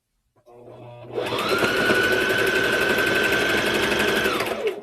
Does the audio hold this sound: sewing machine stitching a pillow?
yes